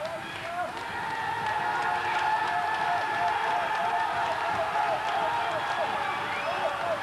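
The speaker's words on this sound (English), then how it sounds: "Crowd are behind him." An Icelandic crowd at a powerlifting championship cheering and applauding a lifter, a dense, continuous roar of clapping and voices that swells slightly and holds steady.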